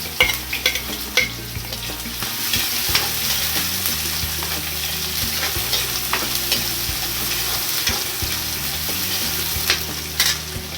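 Finely chopped medium onions and mustard seeds sizzle in a pan for Maharashtrian kanda poha, a loud continuous frying hiss with scattered pops and occasional utensil knocks, over a low steady hum.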